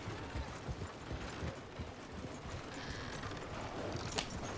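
Horse hooves clip-clop on a town's main street in the Red Dead Redemption 2 video game, a steady rhythmic trotting under a dense wash of ambient game noise.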